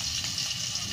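Garlic fries in a hot pan for ginisang monggo, giving a loud, steady hiss and crackle that lasts briefly and evenly, without any talking.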